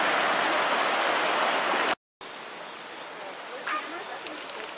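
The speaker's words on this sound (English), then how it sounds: "Water running down through the city here" A stream runs through a small Irish village in Cong, a steady rushing hiss of water heard up close, briefly cut out, then continuing more softly with faint bird chirps over the flow.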